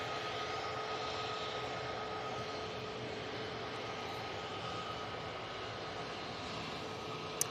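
A Eurowings Airbus A319 jet at Manchester Airport gives a steady, even broadband roar that holds at constant loudness throughout, with no voices.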